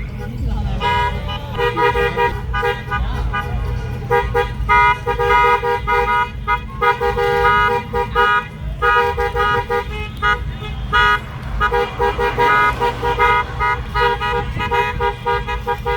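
Car horns toot repeatedly in a long, overlapping chorus from a parade of cars at a neighborhood graduation, loud and near, while people talk over the honking.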